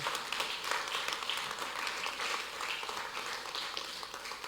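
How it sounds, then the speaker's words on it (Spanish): A church congregation applauds together, a steady, dense wash of clapping that holds at an even level from start to finish with no clear voice over it. "Denle un aplauso al Señor."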